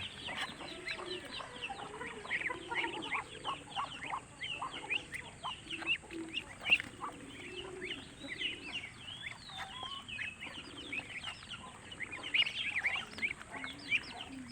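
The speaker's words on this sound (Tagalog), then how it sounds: "Ayan, sarap-sarap na kumain yung mga sisiw na duck." Ducklings eating leftover rice on a farm, a busy chorus of many soft, rapid peeps and chirps close by, continuous and overlapping, with no talk.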